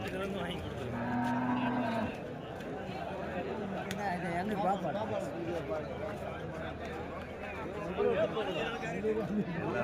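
Cattle moo repeatedly amid a busy crowd at the Vaniyambadi livestock market, with people chattering and calling throughout, a noisy open-air market bustle.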